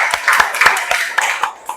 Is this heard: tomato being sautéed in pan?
no